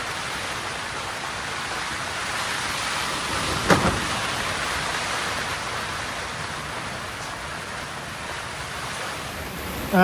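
Heavy wind and rain from a squall roar steadily over a moored sailboat, a dense continuous wash of downpour and gusts with one brief knock partway through.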